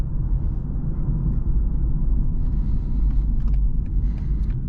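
A 2024 BMW 840i xDrive with a six-cylinder engine drives along, its low steady engine and road rumble filling the cabin evenly, with a few faint higher ticks late on and no voices.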